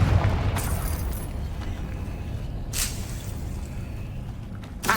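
A Confringo blasting spell from Hogwarts Legacy bursts with a deep rumbling boom, followed by sharper crackling bursts later, all over a continuous low game-ambience rumble.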